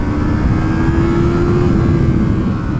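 A 2020 Yamaha MT-03 motorcycle engine runs loud and close as the throttle is twisted, its steady drone rising slightly in pitch, then easing back with no talking.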